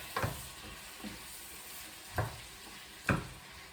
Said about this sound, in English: just mix all of that up. Veggies flying everywhere.